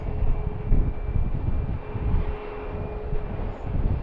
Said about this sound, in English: We got a line of departures here now.